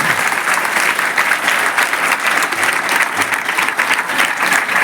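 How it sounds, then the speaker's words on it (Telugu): Girl students at a junior college motivational class in Hyderabad clap loudly and continuously, a dense, even roar of applause from a large group, with no talk over it. "గట్టిగా చప్పట్లు కొట్టాడు మీకోసం."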